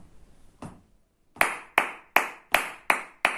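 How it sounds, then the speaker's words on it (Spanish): Flamenco palmas for sevillanas: one sharp hand clap, a short pause, then six crisp, evenly spaced claps in a steady rhythm, close and clear, with no talking. "os la voy a hacer completa de nuevo con las palmas"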